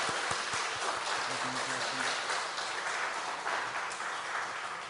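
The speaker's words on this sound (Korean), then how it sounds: "박수 올려드리도록 하겠습니다." A church congregation applauds during a Sunday praise service, giving a dense, continuous roar of clapping at an even, moderately loud level with no voices over it.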